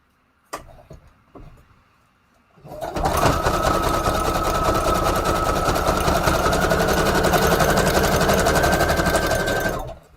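A sewing machine stitches through a scrap paper collage, running steadily and loudly for about seven seconds after a few brief clicks and a pause, its rapid mechanical chatter continuous until it stops abruptly.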